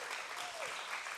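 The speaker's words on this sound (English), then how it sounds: "Let's give them a hand clap as they make their way up here." Audience hand clapping at a church service as volunteers head up onto the stage, a brief steady wash of applause at moderate level with no voices on top.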